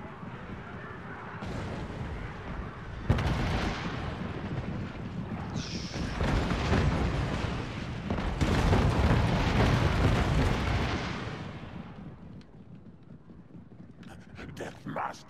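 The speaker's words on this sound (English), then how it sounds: "Poisoned wind mortar." Poisoned wind mortar firing in the Total War Mortal Empires video game, a series of loud booming launches and rumbling blasts swelling and fading over a continuous roar.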